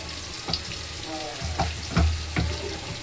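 Asafoetida is dropped into hot oil in a home kitchen, giving a soft crackling sizzle with a few sharp pops and knocks of a utensil against the pan, close and fairly quiet, with no talking.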